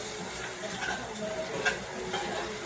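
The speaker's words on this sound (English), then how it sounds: "But you have to constantly stir it." Arborio rice being stirred for risotto in a hot pan, a soft continuous scraping and faint sizzle, steady and close with no talk.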